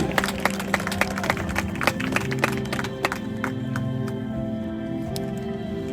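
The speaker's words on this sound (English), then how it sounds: "Let's give her a round of applause." Crowd applause at an outdoor Walk to End Alzheimer's event, scattered hand claps that begin fairly lively and thin out over a few seconds under a faint background hum.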